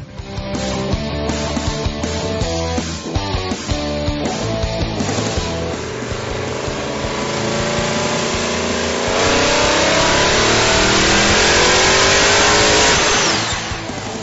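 A boosted, nitrous-fed engine roars flat out on a chassis dyno. It is loud and close, with repeated rev surges and then a long sustained high-rpm scream that fades at the end.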